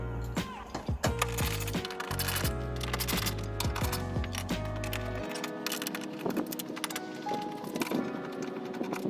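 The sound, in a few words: unscrewing car bumper bolts with T30 Torx driver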